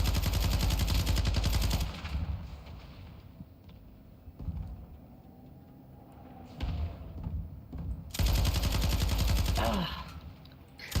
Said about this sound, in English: Taking effective fire. Snipers.